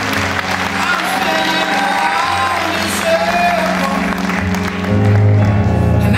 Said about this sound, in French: merci mademoiselle candidate numéro 1 sous vos applaudissements